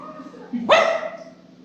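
A human voice imitates a small sausage dog's bark with one sharp, loud yelp that rises quickly and then trails off, close by.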